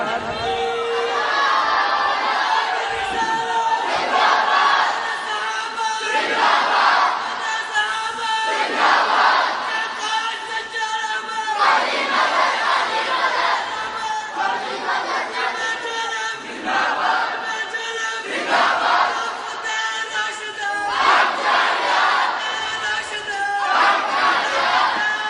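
A large crowd at a religious conference in Jhelum shouting slogans in unison: loud, rhythmic roaring chants repeating every couple of seconds, call and response in a big hall.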